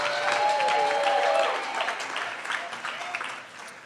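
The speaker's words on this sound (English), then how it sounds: "Give them a pre-round of applause" An audience at a university anniversary celebration applauds for alumni, sustained clapping from a large crowd that swells and then gradually tapers off, with a faint voice briefly over the start.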